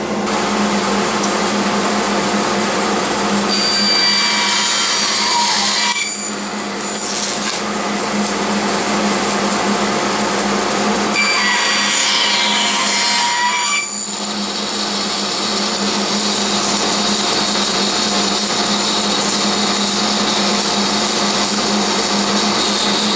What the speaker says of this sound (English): I'm going to turn the dust collector on and get cutting.